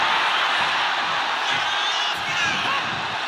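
A loud, dense arena crowd roars and cheers without a break at a wrestling match in the video game WWE 2K26, with a commentator's voice partly buried in the din.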